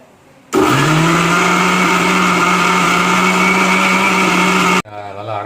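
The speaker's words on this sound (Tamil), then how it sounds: "ஸோ மிக்சியில் போட்டாச்சு. இப்போ வந்து நம்ம அரைச்சிடலாம்." A kitchen mixer grinder blends tomato chutney: a loud, steady motor whir starts abruptly, runs about four seconds and stops, with quieter handling sounds before and after.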